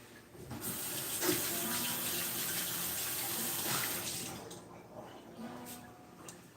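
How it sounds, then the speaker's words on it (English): Kitchen tap running into a sink while hands are washed, a close splashing gush of water that cuts off partway, followed by faint drips and clatter. "And wash my hands."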